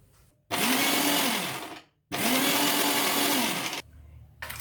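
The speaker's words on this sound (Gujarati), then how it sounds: "આ રીતના હવે મિક્સરમાં કરીશ" An electric kitchen mixer whirs loudly in two strong bursts of about one and a half seconds each, separated by a short pause, as it blends banana, milk, cardamom and almonds into a milkshake.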